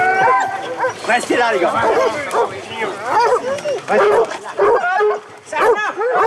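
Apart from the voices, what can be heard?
pack of hunting dogs barking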